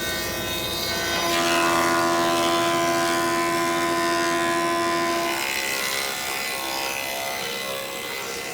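Narrow ash boards are milled into 1x4 stock with a power tool, a loud continuous machine whine and roar with a steady tone that swells as cutting begins and then eases off.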